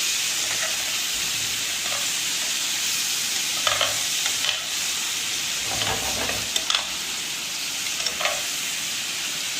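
Gola kababs coated in chili garlic ketchup hiss and sizzle steadily in a hot pan, with intermittent scraping and clacking as they are stirred, close and fairly loud throughout.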